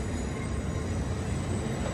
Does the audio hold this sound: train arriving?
yes